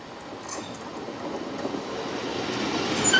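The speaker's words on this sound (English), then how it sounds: "So my train is due around that corner any minute now." A Class 150 passenger train on Cornwall's Maritime Line rumbles in from a distance, its low roll and clatter growing steadily louder, with a faint squeal of wheels near the end.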